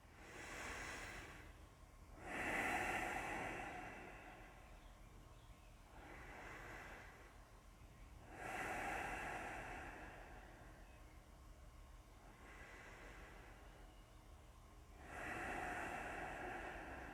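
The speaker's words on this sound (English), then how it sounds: "Take 3 deep breaths." Slow, deep breaths during a quiet yoga class, three long exhale swells spaced several seconds apart over a steady low room hiss, with no talking.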